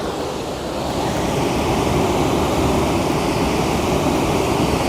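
A waterfall near Gokak, Belagavi roars in a broad, steady rushing wash of falling water, loud and continuous with a little wind buffeting.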